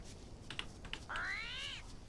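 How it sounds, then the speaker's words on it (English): A big cat in the jungle survival game Green Hell lets out a single drawn-out snarling yowl that starts abruptly and fades. Faint clicks and ambient game sound come before it, and no one speaks. "Definitely saw the big cat over there."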